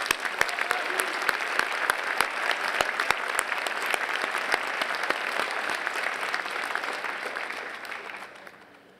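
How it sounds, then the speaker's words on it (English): Large audience at a university graduation convocation claps steadily, with crisp individual claps cutting through the dense, somewhat distant applause before it fades out near the end. "Could you please give them a round of applause?"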